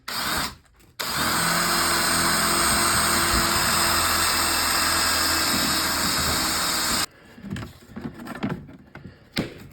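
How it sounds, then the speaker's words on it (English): A power drill whines at high speed continuously for several seconds, close and loud, after a brief start, drilling out rivets on a 2002-2006 Toyota Camry rear bumper, then stops, followed by clattering and scraping of metal. "you can drill these rivets out"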